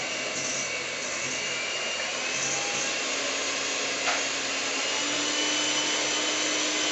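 An electric mixer runs at full speed whipping chocolate mousse, a steady, loud, continuous whirring drone with no pauses, close by.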